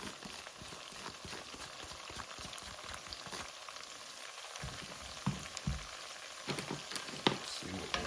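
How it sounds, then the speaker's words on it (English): Onions frying in a pot as the base for a soup, a quiet continuous sizzle and crackle with scattered clicks and light stirring knocks, close but faint. "Alright, now our onions are going in. Let's get all the onions down in there."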